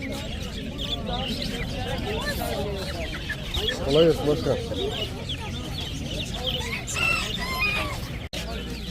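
Chickens clucking and a rooster crowing amid the busy Adana bird market, dense and loud, with fowl calls layered over steady crowd babble and someone speaking nearby.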